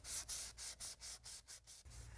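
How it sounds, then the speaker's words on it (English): Sandpaper rubbing over a painted wooden piece to distress it, wearing through to a light blue layer beneath; eight or nine rhythmic back-and-forth strokes, close and steady, with no talk. "I'm going to sand my piece to create a naturally time-worn look and feel"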